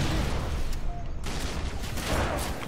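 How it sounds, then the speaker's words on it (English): Grenade blasts in Halo 3 ODST multiplayer, a dense stream of booms and gunfire rolling continuously under brief talk, loud and close throughout. "Oh, he's spamming nades."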